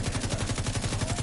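A player shoots enemies in The Division 2 video game during the Tidal Basin invaded mission on Challenging difficulty on PS4. The weapon fires a rapid, steady automatic stream of loud, close shots, with no talking.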